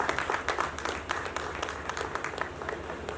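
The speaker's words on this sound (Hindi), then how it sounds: "जोरदार तालियों से इस्तकबाल करें।" An audience at a music video launch event claps to welcome a guest onstage, moderately faint with scattered distinct hand claps in a loose, uneven rhythm and no talking.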